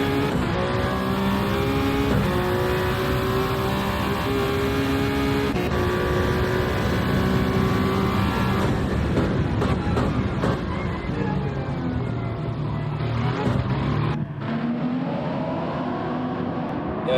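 GT3 race car engines roaring in a sim racing league event at the Nürburgring, a continuous loud drone with rising and falling revs, gear changes and cars passing.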